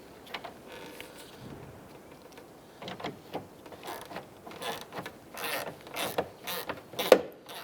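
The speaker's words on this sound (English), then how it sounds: "I'm going to go ahead and install our end screw right here." A screw is driven into the end of the hood molding on a 2010-2016 Cadillac SRX. Quiet, close mechanical clicks and creaks come in irregular short bursts, with a sharper snap near the end.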